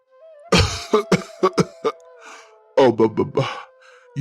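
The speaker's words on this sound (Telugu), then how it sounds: "ఉదయాన్నే దగ్గు శబ్దాలతో మారుమోగుతుంది" A person coughs in several sharp, hacking bursts, pauses, then coughs again in another rapid cluster, close and loud.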